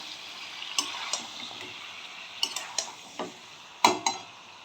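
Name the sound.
marinated chicken being sautéed in a pan on high flame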